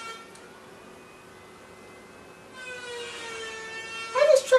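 A FedEx delivery truck arriving nearby, its engine giving off a steady mechanical drone with a high, sustained whine that swells partway through, followed by a brief louder clattering burst near the end.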